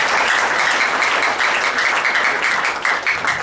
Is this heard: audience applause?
yes